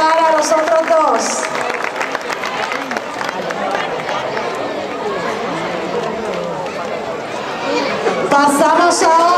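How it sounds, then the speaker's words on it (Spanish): Sustained crowd applause for prize winners at a school pageant at Colegio Santa Clara, dense clapping mixed with chatter and scattered cheers, holding steady for several seconds and swelling again near the end. "Denle un aplauso."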